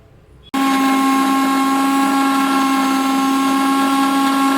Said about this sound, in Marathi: ते मिक्सर मी चालू करत आहे